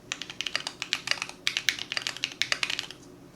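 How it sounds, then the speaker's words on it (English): Close, rapid typing on a computer keyboard: a steady run of crisp plastic key clicks with a brief pause midway, heard alone. "Just type some random stuff in here."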